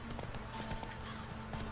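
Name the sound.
horse hooves clip-clopping in video game Witcher 3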